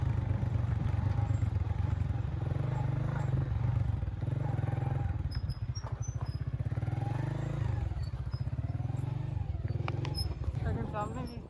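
A motorcycle rides a rocky off-road route from the Karakoram Highway toward Fairy Meadows, its engine drone steady with clattering over stones, while someone talks over it throughout.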